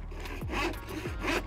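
A blunt handsaw rasps through pallet wood in two slow back-and-forth strokes, close and rough, with no talking.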